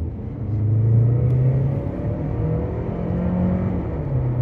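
A Mercedes-Benz GLB 200 AMG with a small 1.4-litre engine drives along a road, giving a steady, close low engine drone and road rumble that swells slightly at the start and holds level throughout.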